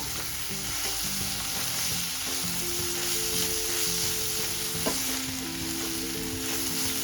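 Kolhapuri golma sautéed in a pan, a steady loud sizzle with frying crackle throughout and a low background hum, one brief clink near the end.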